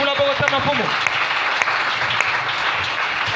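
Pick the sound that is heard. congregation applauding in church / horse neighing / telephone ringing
congregation applauding in church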